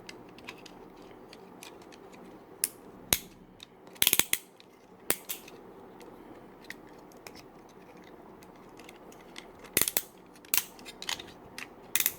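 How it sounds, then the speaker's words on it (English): Ratchet joints on a Jinbao oversized KO transforming robot toy, heard as sharp, close plastic clicks in scattered single snaps and quick clusters over a quiet background, with no talk. "Again, strong ratchet."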